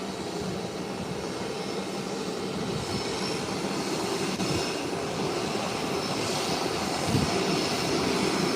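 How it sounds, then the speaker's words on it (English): Twin Otter turboprop aircraft taxiing slowly on a ramp, a loud continuous engine drone and propeller roar that stays close and steady throughout, with no talking. "Taxiing nice and easy. So we now have 2 twin otters on the ramp."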